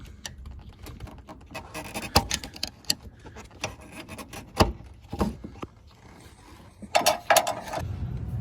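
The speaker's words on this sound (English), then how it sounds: "just take a screwdriver or something sharp. And you just kind of push the clip out" A screwdriver pushes out a plastic trim clip on a Chevy Silverado during an AC condenser replacement, giving close, scattered clicks, scrapes and creaks of plastic in irregular bursts.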